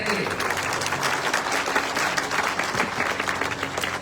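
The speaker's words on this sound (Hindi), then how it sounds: "आप जोरदार तालियां बजाते रहिए।" An audience breaks into loud, sustained applause greeting a revered swami at a religious gathering, dense clapping close and steady throughout.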